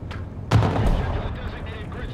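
A single heavy cannon shot in War Thunder ground realistic battle, sharp loud boom followed by a rumbling decay, with some talk.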